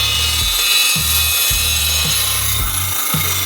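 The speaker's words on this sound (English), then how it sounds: "Make a quick mark on here, cut this tube" A metal chassis tube being cut with a power saw during a twin-turbo Ferrari F12 build; repeated loud grinding strokes with brief pauses between them, close and steady, no talking.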